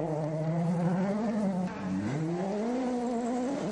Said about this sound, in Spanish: Qué rico es escuchar los carros